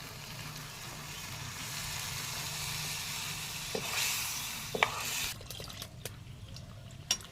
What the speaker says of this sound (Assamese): এয়া গৰম পানী ঢালি লৈছোঁ কেটলিৰ পৰা